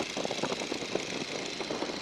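Engine of a 1942 Boeing Stearman biplane throttled back to about 1,500 RPM in flight, a steady low droning hum with a faint regular pulsing, even and moderately quiet throughout.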